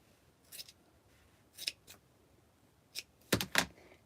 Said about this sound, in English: it's all the same repeated long noodle that I just like to cut out of a piece of felt.